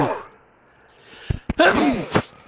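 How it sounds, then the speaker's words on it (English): A man sneezes sharply and loudly near the microphone after a quiet pause, with a short catch of breath before it and voiced groaning around the burst. "I am about to sneeze."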